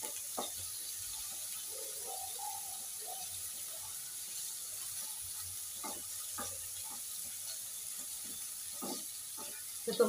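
Paneer frying in a pan on a medium gas flame, a soft steady sizzle with gentle scraping and stirring clicks as pieces are turned, fairly quiet and close.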